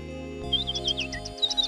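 Baby sparrows chirp in a quick run of short, high, thin calls, fairly faint, with a final cluster near the end, all over a steady low background tone.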